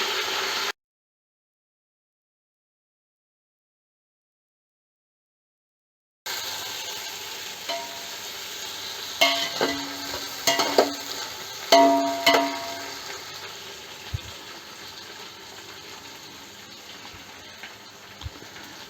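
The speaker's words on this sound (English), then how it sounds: "The onions are fried till it gets brown." Onions frying with mint and coriander in a pan for beef biryani, heard after a gap of silence as a gentle sizzle broken by clusters of louder crackles and stirring clatter near the middle.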